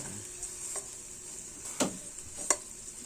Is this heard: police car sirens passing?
no